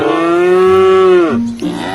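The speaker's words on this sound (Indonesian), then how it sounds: "wah lihat nih teman-teman ada si sapi juga nih" A cow moos in one long, loud, sustained call that bends downward near the end, close and alone with no talk.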